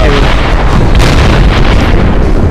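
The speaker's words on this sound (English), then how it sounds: "I think he threw a grenade away from himself." A loud, close grenade blast in a military shooter game: a dense, sustained rumble filling the whole short stretch with no quiet gaps.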